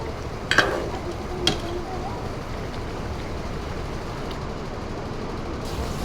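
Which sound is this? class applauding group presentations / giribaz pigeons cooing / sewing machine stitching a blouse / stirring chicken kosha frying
stirring chicken kosha frying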